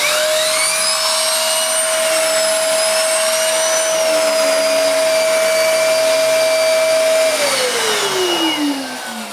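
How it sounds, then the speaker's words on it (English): A Hoover Idol A2 cylinder vacuum cleaner runs with its turbo nozzle, a loud, steady, high whine and rushing airflow near the listener, with the tone dropping as the motor winds down at the end. "Let's just quickly see how fast the turbo nozzle goes."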